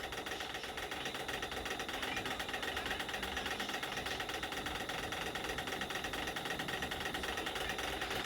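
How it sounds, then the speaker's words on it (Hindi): A sewing machine runs continuously along the edges of blouse fabric, giving a steady, even mechanical whir at close range with no pauses for the whole stretch. "सिर्फ किनारे किनारे पे सिलाई करूँगी इस तरह से"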